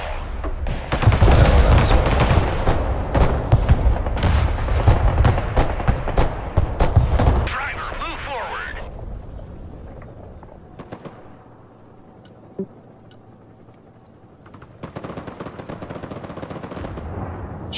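Dense barrage of artillery and gunfire in the Broken Arrow war game, rapid heavy cracks and booms for several seconds, then quieter scattered distant shots and rumble.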